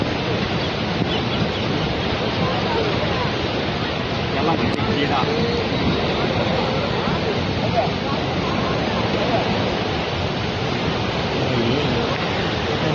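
Rushing overflow water at Paithan dam pours loudly and continuously, a dense steady roar filling the whole clip with no break.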